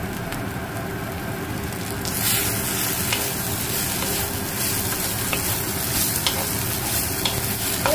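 Bitter gourd and eggplant fry in ghee in a pan, giving a steady close sizzle that grows louder after the first couple of seconds, with scraping stirs throughout and no voices.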